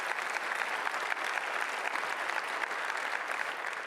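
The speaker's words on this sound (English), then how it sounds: "Let's give it applause." A dinner audience at an awards event bursts into sustained, dense applause, many hands clapping evenly for several seconds, fairly distant and moderate in level.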